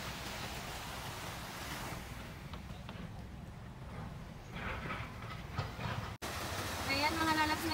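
Sea waves washing on the shore next to a beach resort, a steady loud surf rush mixed with wind, with a person talking over it toward the end.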